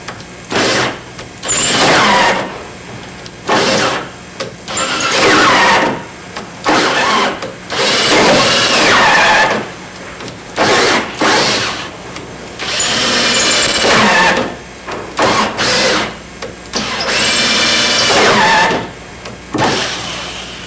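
A power drill whirs in repeated bursts, revving loudly and stopping, with short gaps between runs, as the chuck spins on the bit during aircraft kit assembly.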